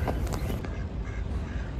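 Ducks crowd toward people feeding them lettuce at a pond, giving a continuous, close, busy chorus of quacking and squawking with no talk.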